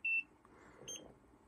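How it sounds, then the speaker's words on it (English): Nira precision laser skin device giving a short, clear electronic beep, followed by a fainter double chirp in a quiet room. "The second beep tells you it's time to move it to another location."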